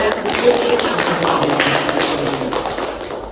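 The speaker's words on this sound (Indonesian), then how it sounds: "Mari kita beri aplaus untuk kita semua" A group claps together after a classroom sociodrama role-play exercise, a dense, steady patter of many hands lasting a few seconds at even loudness.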